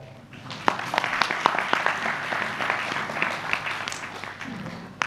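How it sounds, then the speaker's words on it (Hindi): Audience applause at a Jeevan Vidya Parichay Shivir session: many hands clapping steadily for several seconds, dense and fairly close, with a few sharper individual claps and faint voices mixed in. "ताली अच्छे से बजा लो।"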